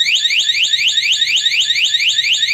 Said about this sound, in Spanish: accionar la alarma,